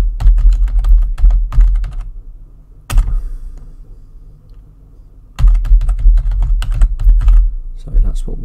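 Typing on a computer keyboard while entering email alert settings for a QNAP NAS, bursts of quick close key clicks, then a pause of near quiet before another run of rapid keystrokes.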